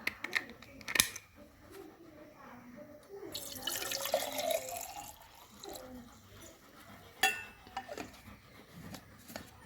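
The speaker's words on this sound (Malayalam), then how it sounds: "ഞാൻ വെള്ളം ഒഴിച്ച് കാണിക്കാമേ." Water is poured into a push-button water bottle, with splashing and trickling plus a few sharp plastic clicks and taps, faint and nearby, with occasional quiet background noise.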